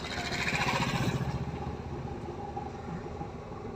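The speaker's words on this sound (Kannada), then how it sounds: "ನೋಡಿ ಬುಲೆಟ್ ಗಾಡಿಯನ್ನು ಓವರ್ಟೇಕ್ ಮಾಡಿ ಹೋದ" Royal Enfield Bullet motorcycle overtaking on a downhill road, a steady throbbing engine that swells briefly and then gradually fades into the ongoing drone of traffic.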